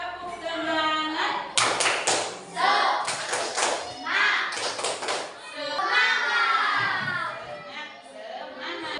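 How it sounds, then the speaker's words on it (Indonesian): A classroom of children does the 'tepuk semangat' spirit clap again: several quick bursts of rhythmic group clapping, then kids' voices chanting and talking together nearby. "Sekali lagi, tepuk semangat."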